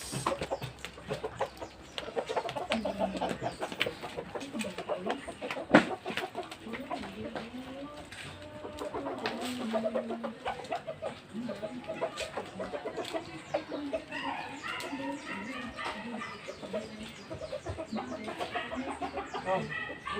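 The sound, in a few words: chickens clucking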